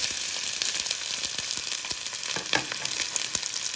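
Steady, crackling sizzle of coconut oil heating in a hot pan, close and continuous, with scattered sharper pops throughout.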